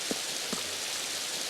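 Rain falls in the video game Spectrobes as a steady, dense hiss filling the whole moment, with two faint soft low thuds near the start and no voices.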